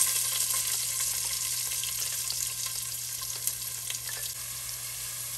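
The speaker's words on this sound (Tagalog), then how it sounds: "Konti lang yung mantika na iniwan ko para lang panggisa sa ating garlic, onion, and celery." Chopped onion sautéing in a little oil in a pan for chicken afritada, a steady close hiss and sizzle with faint stirring scrapes, no voices.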